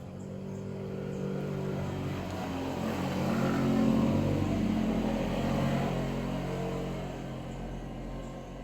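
Motorcycles pass along a road, a steady droning engine rumble that swells toward the middle and fades again, no voices heard.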